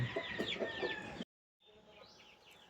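Lavender and dark blue Brahma hens clucking and chirping close by in a poultry pen, a steady run of calls that breaks off into a short gap, then resumes fainter.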